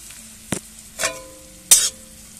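Chopped onion, garlic, cardamom and whole garam masala hit hot mustard oil in a kadai, three short sizzling bursts separated by near-quiet.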